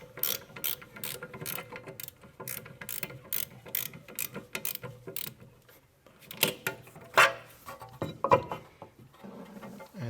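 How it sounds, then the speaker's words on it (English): Spanner tightening a bolt on a bicycle wheel during a brake service, heard as a rapid run of close ratcheting clicks in bursts, then a pause and a few louder clunks and clicks, with no talking. "Take the spanner. Boom. And tighten this one as well."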